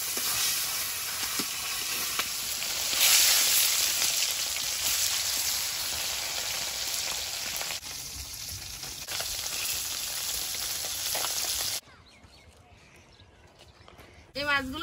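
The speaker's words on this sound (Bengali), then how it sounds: "মাছগুলো ভেজে নিচ্ছি।" Several kinds of fish, including tora fish, rubbed with salt and turmeric, frying in oil in a wok, a steady loud sizzle that runs for most of the clip before dropping away near the end, with a brief voice at the close.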